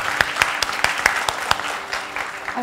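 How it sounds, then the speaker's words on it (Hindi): Steady applause from an audience at a meet-and-greet in Mumbai, with sharp individual claps standing out in a loose rhythm over a continuous wash of clapping, close and fairly loud. "जोरदार तालियां पूजा के लिए"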